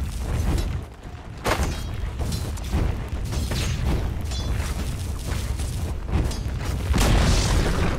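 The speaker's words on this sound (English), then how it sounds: "Dire's bottom tower has fallen." Dire's bottom tower collapsing in Dota 2, a dense rumbling crash of booms and shattering debris that carries loud and continuous for several seconds amid battle noise.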